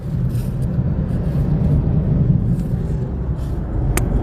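A car rolls along a road through farmland, heard from inside as a steady low rumble of engine and tyres with faint road noise and no talking.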